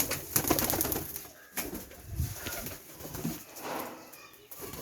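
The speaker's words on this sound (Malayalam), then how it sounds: "അപ്പം നമുക്ക് എല്ലാ പ്രാവുകളെയും പരിചയപ്പെടാം" Several pigeons coo in soft, repeated rounded calls at close range, with occasional rustling and faint background sounds between the coos.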